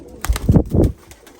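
Close, loud pigeons cooing in a short series of low, throaty calls, with no talking.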